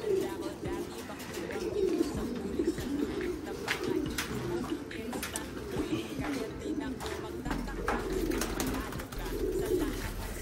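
A pigeon out of its cage coos in repeated low, throaty rolls close by, with people talking over and between the calls.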